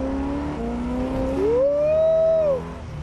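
The engine of a replica Jaguar XK120 classic car revs upward while driving, its pitch climbing and holding briefly before easing off, close and fairly loud.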